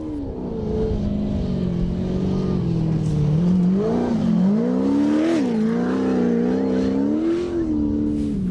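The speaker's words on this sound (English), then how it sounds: "And the old diesel is now warmed up." An old diesel rally car from a desert rally-raid stage runs loudly and close, its engine note rising and falling as it revs and settles, with a steady droning rumble throughout.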